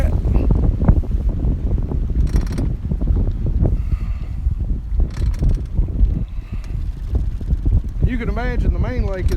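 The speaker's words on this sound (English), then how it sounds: "you can see the wind's kicking up" Wind on a lake with clouds rolling over the mountains, a steady loud rush buffeting the microphone throughout, with someone talking over it.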